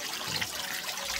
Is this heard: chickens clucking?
no